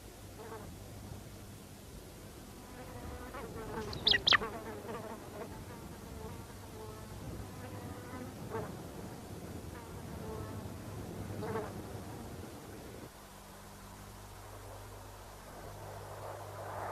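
Flies buzz steadily around scraps of uneaten meat left in a black eagle's nest on a Tanzanian kopje, a faint continuous insect drone with a couple of brief louder passes near the microphone and no voices.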